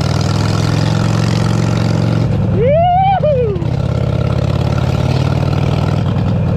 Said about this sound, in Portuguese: vamos acelerar essa moto aqui